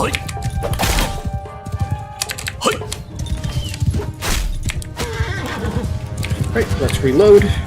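A horse whinnies during a cavalry charge in Mount and Blade 2: Bannerlord (Shokuho mod), a samurai-era Japanese battle game, breaking through clattering hooves, clanking mechanisms and a busy battlefield din while someone talks over the action.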